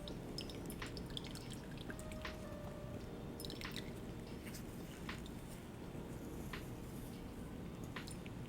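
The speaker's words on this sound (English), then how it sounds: "I'm just going to take my mixture and pour it onto my cheesecloth to strain out any larger particles" A homemade hair moisturizer mixture strains through a cheesecloth, dripping steadily with scattered small, irregular drips and a faint trickle, quiet and close, with no talking.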